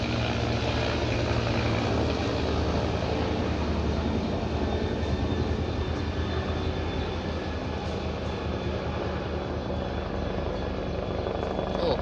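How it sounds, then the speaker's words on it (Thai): Military aircraft flying low overhead near a base, their engines making a loud, continuous roar that drowns out everything else for the whole stretch. "วันนี้มีเครื่องบินมาเยี่ยมนะครับ อาจจะเสียงดังนิดนึงนะครับ"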